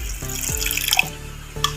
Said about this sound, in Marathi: आणि याच्यात थोडंसं आपल्याला पाणी घालायचं.